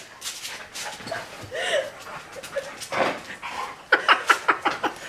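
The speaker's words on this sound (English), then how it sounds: "Oh my God, our dog is insane." A dog acting up nearby with whimpers, yips and short barks, ending in a rapid run of sharp yelps, while people talk and laugh over it.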